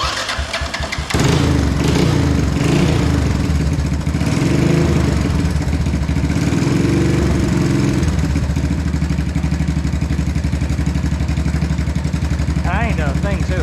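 A Honda three-wheeler engine starts up after a second and then runs loudly and steadily close by, a rough continuous putter with slight revving.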